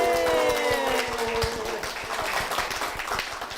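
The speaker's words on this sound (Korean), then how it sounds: "우리 박수 한번 쳐드릴까요?" Audience applause at a Korean church broadcast program, a dense wash of many hands clapping that swells and carries on steadily through the moment, close and fairly loud with no talk over it.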